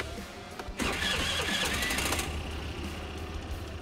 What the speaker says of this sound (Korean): 시동이 걸리는 소리가 상당히 좀 요란합니다